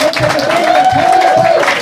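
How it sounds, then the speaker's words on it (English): Dense audience applause at a live comedy show fills the room, steady and loud, with cheering voices running underneath. "Give yourselves a Greek round of applause."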